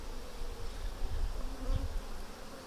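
Honeybees buzz in a low, continuous drone close by while being transferred from a nucleus box to a hive, with no voices over the steady hum.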